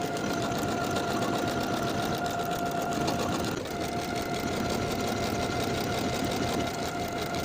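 A sewing machine stitching buttonholes on a women's wool jacket runs in a steady, continuous mechanical whir with a faint tonal hum throughout, close and moderately loud with no break and no voices.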